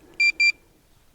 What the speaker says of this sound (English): And I did have the beeping turned off